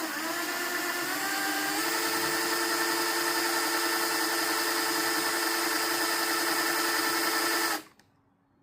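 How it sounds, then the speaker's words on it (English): A power drill runs steadily for nearly eight seconds, boring a starter hole through hard plastic and fabric lip on a Rolls Royce dashboard during repair, then winds down and stops, close and loud. "get my drill bit on the fabric and the little lip here and put a hole to start a screw"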